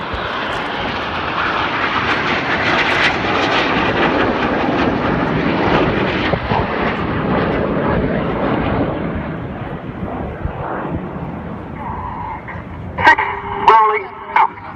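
Red Arrows jets roar past at the Bournemouth Air Festival 2015, a loud broad rushing jet noise that swells and slowly fades, followed by a commentator's voice over a loudspeaker.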